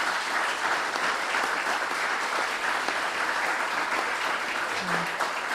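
A media event audience gives a warm round of applause to a journalist, steady sustained clapping from a crowd throughout, with no talk over it.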